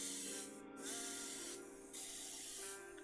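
Matte varnish sprayed from an aerosol can onto a finished base: two or three short, loud hissing bursts close by, separated by brief pauses.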